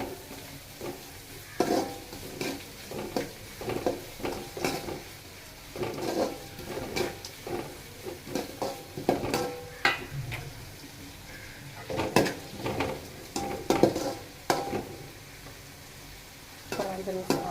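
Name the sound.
onions sautéing in a pan for fish curry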